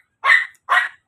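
A pet dog barks twice in clear, separate yaps, with a third bark starting right at the end; the barks are sharp, fairly close and loud, with silence between them.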